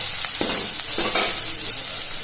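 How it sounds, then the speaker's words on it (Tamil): Onion sautés in hot oil with popped mustard seeds for snake gourd kootu, giving a continuous, close, loud sizzle broken by a few light stirring scrapes. "இப்போ நான் வெங்காயம் போட்டுக்கிறேன். வெங்காயம் கொஞ்சம் வதங்கட்டும்."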